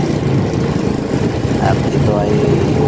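A service vehicle's engine idles while warming up, a steady low rumble filling the background, with someone talking over it throughout.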